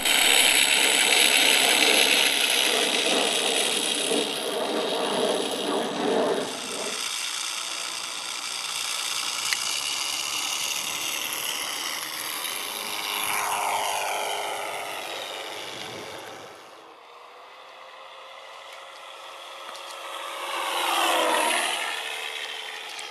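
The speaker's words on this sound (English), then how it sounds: "This is my Flightline RC 1600mm Mark 9 Spitfire, and it's fitted with the MRSound Aspire sound system." Flightline RC 1600mm Mark 9 Spitfire model with an MrSound Aspire sound system, a loud close mechanical engine rumble that winds down, restarts and rises again in pitch-sweeping surges without talk.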